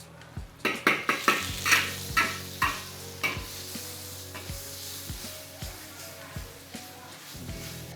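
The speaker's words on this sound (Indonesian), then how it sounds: "Bawang putih masuk." Garlic frying in a pan for a sweet-and-sour squid dish, with a series of sharp utensil clanks and scrapes against the pan over a low, steady sizzle.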